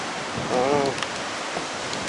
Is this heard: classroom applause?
no